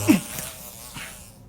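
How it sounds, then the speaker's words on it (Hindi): A housefly buzzing briefly in a cramped box where a person is buried, a short close drone that fades over about a second and a half. "क्या वो एक मक्खी थी?"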